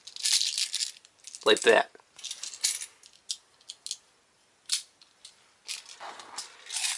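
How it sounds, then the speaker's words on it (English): Airsoft BBs dropping from a Crosman speed loader, a quick cluster of small hard rattling clicks near the mic, set between bursts of plastic handling and speech. "you can put it in the bat here, and it'll just drop a couple rounds in there."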